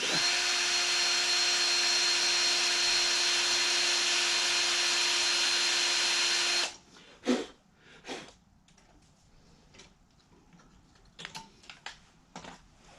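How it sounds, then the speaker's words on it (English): A steady, high-pitched power drill whirs continuously for several seconds drilling a pilot hole on a 2008 Harley-Davidson Sportster 883 jiffy stand, then stops, followed by scattered clicks and light knocks. "speed up the drill a little bit. That's a pilot hole on that one."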